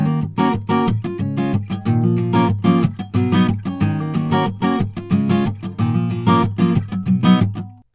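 Acoustic guitar strummed fast through the chords of a pop song, a dense, driving rhythm of bright strokes played alone at steady volume.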